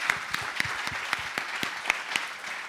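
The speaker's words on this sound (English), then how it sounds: "just a round of applause for these guys" An audience applauds a panel at a retail talk, with scattered, distinct claps that are fairly sparse and sharp, moderately loud and with no talking.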